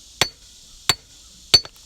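A hammer strikes a cinder block three times at an even pace, each blow a sharp, close crack; the last hit is followed by a quick rattle of breaking block.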